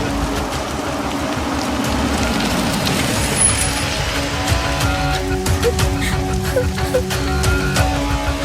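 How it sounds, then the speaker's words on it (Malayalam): Steady rain falls in a loud, unbroken hiss of dense droplets throughout, with faint tonal sounds entering in the latter half. "മഴ വന്നല്ലോ"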